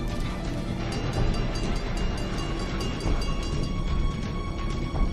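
Steady rumble of a passing train used as a story sound effect, with rhythmic wheel clatter and rail noise running loud and continuous throughout, no voices.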